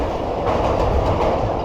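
The Rehman Baba Express rumbles along in a steady, loud roar of wheels and carriage noise, heard continuously from inside the moving train.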